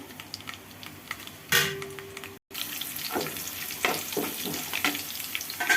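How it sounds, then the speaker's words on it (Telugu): Mustard seeds, cumin, black gram lentils, dried red chillies and curry leaves tempered in plenty of hot oil for an Andhra-style pumpkin curry: close crackling sizzle that jumps louder as ingredients drop in, briefly cuts out, then spits and pops steadily. "నూనె ఎక్కువగా ఉండాలి గుమ్మడికాయ పులుసులోకి పోపులు వేసేసుకుందాం"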